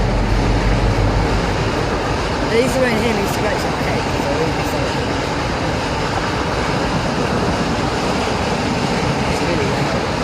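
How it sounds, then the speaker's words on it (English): Trains roll past continuously in a loud, dense rumble with rattling and hiss throughout, while a person talks over the noise. "So many trains."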